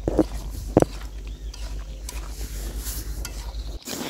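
A spiced meat curry with chili, turmeric, coriander and panch phoron being stirred in a pot: a couple of sharp scrapes near the start, then a continuous soft scraping and shuffling over a low hum.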